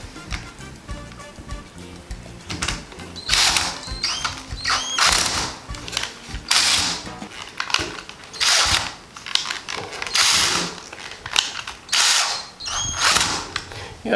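Laminated screws are driven into a smoke detector mount in a series of loud, close bursts of a whirring driver. Ratcheting, clicking mechanical noise continues between the bursts, with no talk.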